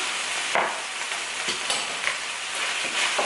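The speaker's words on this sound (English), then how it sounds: "I'm going to stir this about" Garlic and beef stirred in a hot frying skillet, a steady sizzle broken by several scraping spoon strokes, close and fairly loud, with no talk.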